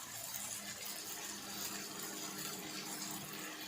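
Water poured into a pan of drumsticks being sautéed in a home kitchen, a steady close gushing splash that runs unbroken for several seconds with no talking over it.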